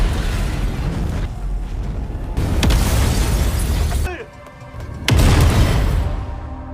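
Loud booming blasts and rumbling roar in several waves, with a short lull between, like a large explosion with crashing debris.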